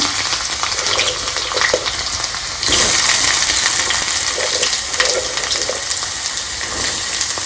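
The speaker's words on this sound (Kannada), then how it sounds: "ಇವಾಗ ಇಲ್ಲಿ ಸಾಸಿವೆ ಸಿಡೀತಾ ಇದೆ" Mustard seeds pop and sizzle in hot oil with curry leaves for a spicy chutney: a loud, dense, steady frying hiss peppered with sharp crackles, heard close with no talk.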